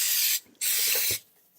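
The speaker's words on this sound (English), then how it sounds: "we're going to spray our air fry with some cooking spray" Cooking spray hisses into an air fryer basket in two loud, close bursts, the first brief and the second longer, separated by a short pause and followed by quiet.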